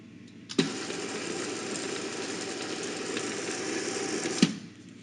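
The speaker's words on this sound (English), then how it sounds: "So I'm just going to empty this doser. And now we're ready to grind." An espresso coffee grinder with a doser starts abruptly, grinds beans in a steady, loud whirring hum for about four seconds, then cuts off, with no talking.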